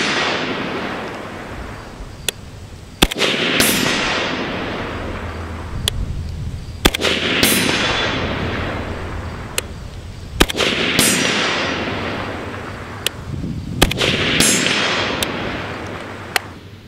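Rifle shots from an AK fired at 100 and 200 yard targets on an outdoor range, roughly a dozen sharp loud cracks in irregular pairs and singles, each followed by a rolling echo that trails off.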